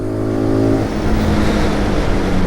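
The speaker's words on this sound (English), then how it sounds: "the fun part is revving the nuts off it" A SYM NH-X 125 motor scooter's small engine revs hard, its steady hum swelling into a loud, rough, continuous roar close by.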